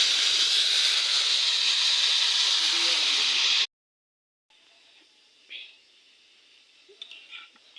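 A pressure cooker releasing steam in a home kitchen: a loud, steady hiss runs for several seconds, then cuts off, leaving faint clicks and soft background sounds.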